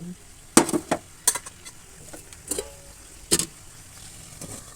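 A spoon stirs a potato and eggplant curry in a pot, clanking against the metal in several sharp, separate knocks spread out with quiet gaps, then a lid goes on.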